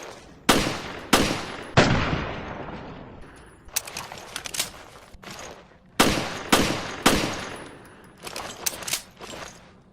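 Shots from the PC-356 handgun in Resident Evil: Revelations ring out in a loud, sharp series of single reports with short decaying tails, fired in uneven bursts and pauses with no talk.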